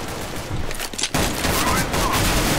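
Rapid bursts of gunfire from a P250 pistol in Counter-Strike: Global Offensive, loud and dense through the whole stretch, with a sharp shot near the middle.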